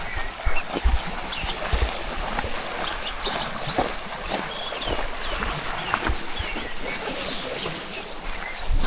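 A stream flows steadily outdoors in New Zealand's Taupo and Rotorua area, running continuously, with occasional bird chirps and light knocks over a constant rushing background.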